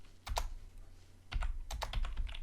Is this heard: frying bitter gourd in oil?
no